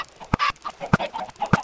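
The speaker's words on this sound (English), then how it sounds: "So I know there's chickens in there. I hear them now." Chickens cluck in Minecraft's blocky chicken farm: three short, sharp clucks spaced about half a second apart, fairly close, over faint game ambience.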